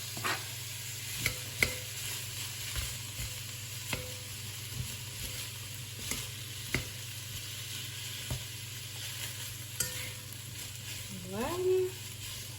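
Chopped onion and bacon lardons fry in a pan for a tartiflette, a low steady sizzle broken by sharp utensil taps and stirring scrapes, heard close, with a short spoken word near the end.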